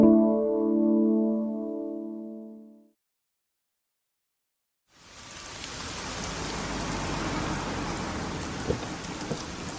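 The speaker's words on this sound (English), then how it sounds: "It's awful weather out there. Absolutely. It's been raining for hours." A short tonal musical sting fades out, then after a brief silence steady rain falls hard and continuous, a dense hiss of drops striking surfaces close by.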